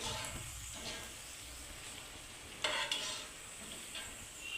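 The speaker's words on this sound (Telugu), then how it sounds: "కొంచెం గోల్డెన్ బ్రౌన్ కలర్ వచ్చే వరకు వేయించుకొని" Bottle gourd and sorghum flour fritters frying in hot oil, a soft steady sizzle and bubbling throughout with a brief louder crackle midway, heard alone without talk.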